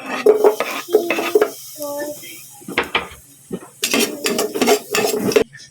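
Garlic and ginger sauté in oil in a pan for pork tinola, with bursts of metal utensil stirring, scraping and clinking against the pan, alternating with a person talking.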